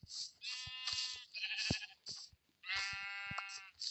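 Sheep bleating several times in a row, wavering drawn-out calls close by and fairly quiet, with soft thumps between them and no talking.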